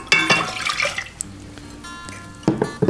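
White vinegar pours and splashes into a metal saucepan in a few gurgling bursts, with a short pause before a final splash.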